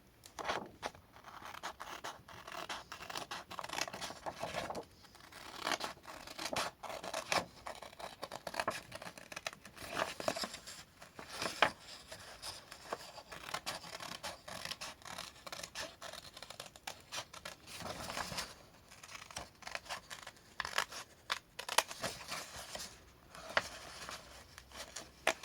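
Scissors cutting card for a dinosaur-head birthday card, close-up repeated crisp snips and paper rustles in an irregular rhythm over a long stretch.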